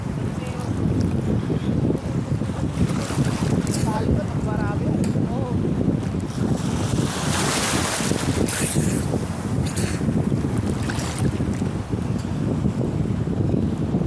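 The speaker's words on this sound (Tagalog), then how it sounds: "Ngayon, sa sitwasyon namin ngayon, maalon." Rough sea churns around a small fishing boat working nets, with a constant roar of wind and waves buffeting the microphone and voices talking over it.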